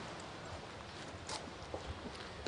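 Hooves of a powerful horse clip-clopping at a walk, a steady uneven rhythm of soft thuds close by, set against a continuous noisy background.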